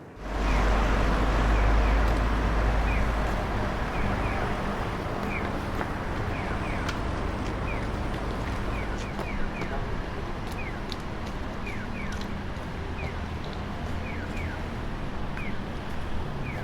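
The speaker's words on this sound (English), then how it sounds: "Now we listen to some traffic" Street traffic captured on a Zoom M2 recorder forms a continuous broad roar of passing vehicles, with wind rumble at the start and faint distant chirps and clicks over the steady noise.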